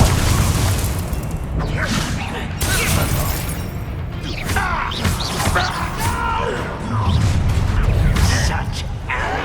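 A fire spell bursts repeatedly in Hogwarts Legacy inside a goblin mine, loud booming blasts and whooshes over a busy mix of combat noise, with shouts and a spoken voice among them.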